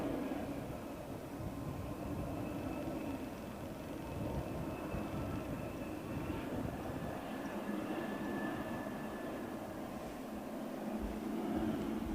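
SAS airliners take off at London Heathrow Airport, their jet engines a broad, steady distant roar that holds evenly throughout, with a faint whine above the rumble and no voices.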